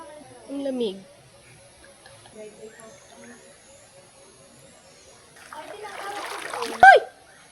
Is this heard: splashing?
yes